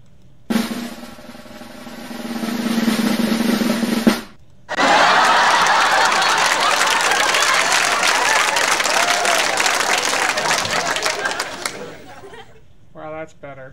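Applause and cheering from a crowd in a comedy jokes show, a short burst of clapping followed by a longer, louder wave of applause and cheers with chatter mixed in, fading out near the end.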